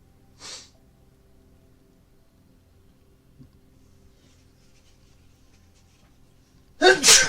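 A brief nasal burst sounds early, then a louder close sneeze lands near the end after a stretch of quiet room noise, blamed on allergies during a tabletop role-playing session.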